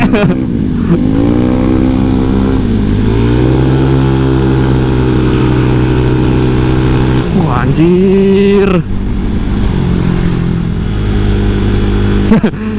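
A motorcycle fitted with a new 63-spec engine runs loudly up close, its steady engine drone rising in pitch through a quick rev before settling again; a man exclaims briefly over it.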